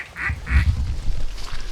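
Mallard hen duck quacking near a spinning-wing decoy during a late-season waterfowl hunt, two short nasal calls close together at the start, then fainter quacks with low wind rumble and no talk.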